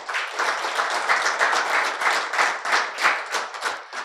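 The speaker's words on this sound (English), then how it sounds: "With a resounding applause, ladies and gentlemen, please let's make welcome Dr." An audience at a health facilities report launch in Nigeria gives sustained applause welcoming Dr. Femi Olugbile, a dense, steady wash of many hands clapping with no talk over it.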